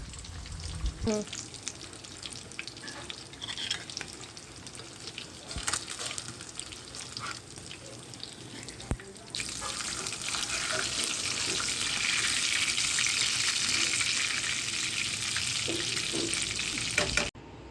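Fish gravy simmers in a clay pot on a stove with a steady low bubbling and sizzling hiss that grows denser and louder partway through, punctuated by a few faint clinks.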